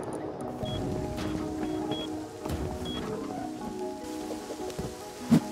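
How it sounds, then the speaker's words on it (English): Steady rain patters down in the survival game Rust as fog rolls in, a soft continuous hiss with faint scattered drops and a brief louder knock near the end, with no talk. "It started fogging and raining."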